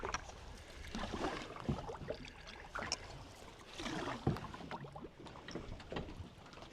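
Canoe being paddled through a narrow canoe pass on the French River, with soft repeated paddle strokes, gentle splashes and water lapping against the hull, close and continuous without talking.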